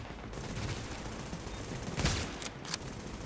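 Distant, muffled bursts of gunfire from The Division's Dark Zone PvP mode on PS4, with a few sharper shots standing out against steady background game noise.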